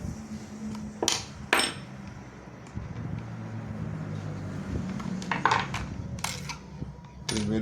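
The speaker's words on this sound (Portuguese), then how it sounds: "Aí a gente vai tirar todos os parafusos e verificar" Screws are taken out of a sewing machine transformer, with sharp metallic clinks and taps of tools and parts at irregular moments over low background rumble, close and fairly loud.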